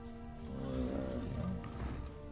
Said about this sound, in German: Ah, hört sich nach einem Bären an